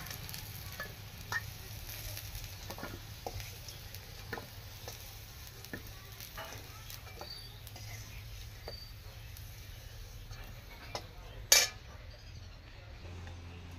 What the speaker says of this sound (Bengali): এখন এই মাছ ভাজার তেলে আলু কটা ভেজে নেব